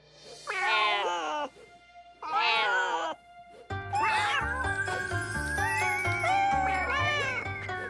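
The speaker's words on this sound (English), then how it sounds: "cats, meow as loud as you can" Loud, drawn-out meows from cats, two separate cries with pauses between them, then a longer overlapping stretch of meowing over a low rhythmic background.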